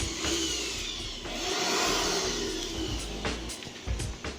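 A Stanley STPT600 blower and vacuum runs in vacuum mode, a loud, continuous whooshing roar that swells slightly and wavers near the end.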